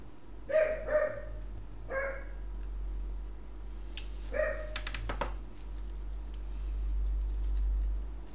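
A dog gives a few short, sharp barks in a quiet indoor room where ribbon roses are being made, three separate yips spaced over the first seconds, followed by faint rustling and light tapping.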